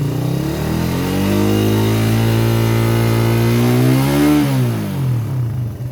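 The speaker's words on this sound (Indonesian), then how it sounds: "Sambil menarik RPM tinggi, teman-teman perhatiin di bagian knalpot belakang" A used Suzuki Satria FU motorcycle engine held at high RPM, a loud, steady, close buzzing drone that climbs and then drops back near the end, with no talking.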